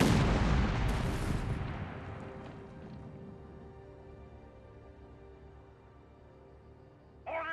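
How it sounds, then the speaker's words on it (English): Artillery guns fire in the Company of Heroes 3 video game: one heavy close blast opens, followed by another, and a long rumbling reverberation slowly fades, with a brief new sound starting at the very end. "Get range on that target, as you like! I want all guns opening up!"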